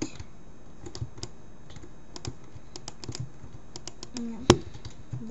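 Scattered close clicks and key taps while playing Minecraft, irregular light clicks over a faint background, with one sharper, louder click near the end.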